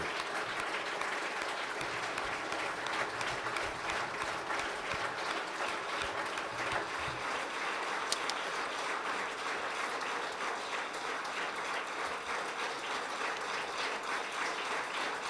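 Conference audience applause for servicemen at a yearly meeting opening: steady, fairly faint and distant clapping that continues evenly for about fifteen seconds.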